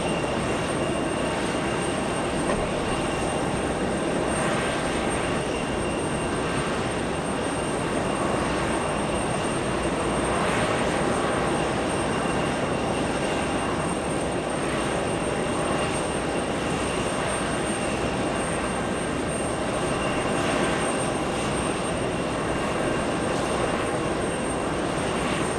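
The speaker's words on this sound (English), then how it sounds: "Little Jetblue landing on 22 left, flying in from Boston, Massachusetts." A JetBlue jet airliner inbound from Boston lands on runway 22 left at JFK airport, its engines a steady, loud, unbroken roar that lasts the whole stretch.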